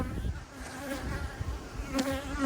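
Bees buzz around a bee yard of hives, a continuous, moderately loud insect drone that rises as bees pass close by, with some low rustling underneath.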